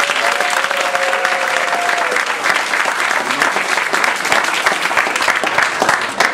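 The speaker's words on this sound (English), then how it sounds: "Please give a warm round of applause to Lieutenant Governor of Education and Training, Ms. Donna Weston." Sustained, loud audience applause fills a hall at a Toastmasters district conference, dense steady clapping throughout with a brief tonal note near the start.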